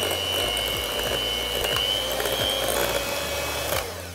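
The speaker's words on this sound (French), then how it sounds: "je vais prendre un petit batteur électrique" A small electric hand mixer whirs steadily as it beats cheesecake batter, its high motor whine constant with light scraping knocks, then it cuts off near the end.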